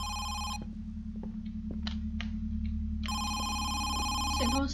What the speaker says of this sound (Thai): เสียงโทรศัพท์ข้างล่างอะนะ